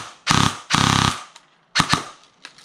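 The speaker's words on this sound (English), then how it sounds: "And then here's the full auto." Electric airsoft gun rattles off two rapid full-auto bursts up close, followed by a couple of separate sharp shots and a faint last pop.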